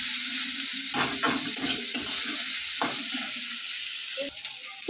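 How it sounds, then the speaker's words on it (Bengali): Dried red chillies fry in a pan with a steady close sizzle, broken by several scraping stirs of a spatula, with no voices. "তো চলো ভাজা হোক"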